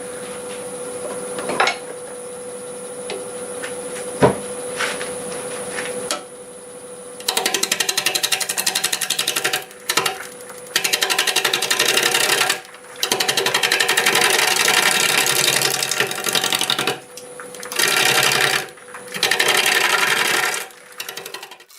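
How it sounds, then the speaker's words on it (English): Boiled and bent cherry wood spun on a wood lathe near 690 RPM, the gouge cutting in loud, sustained bursts broken by short pauses, after a quieter stretch with a steady motor whine. "we will start cutting some of this away. And I think we're doing about 650 RPM"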